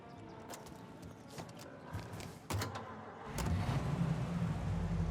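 A car engine runs steadily while driving in Mafia: Definitive Edition, a low mid-pitched rumble that swells louder partway through, with a few sharp clicks and knocks on top.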